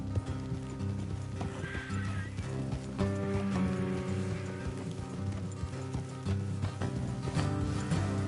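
Horses gallop in the video game Red Dead Redemption 2 with steady, driving hoofbeats and occasional whinnies, close and loud under a constant layer of game music.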